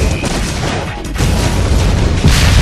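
A bomb blast from Metal Gear Solid 2 roars as a loud, dense, continuous rumble with a sharper surge near the end, and no speech.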